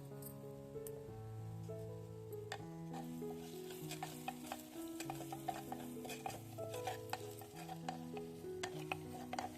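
Chilli powder sizzles as it fries in hot oil, a soft crackling hiss with light stirring scrapes, mostly masked by louder melodic background music.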